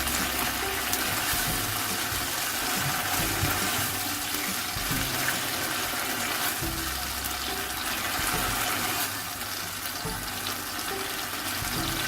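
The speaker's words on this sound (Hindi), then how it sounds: "अब मैं इसमें थोड़ा सा 2 टेबलस्पून जितना पानी ऐड करूँगी।" Water flows in a steady, continuous stream as it is added to a chilli chicken pan, a fairly loud splashing rush that carries on alone for several seconds with no talking.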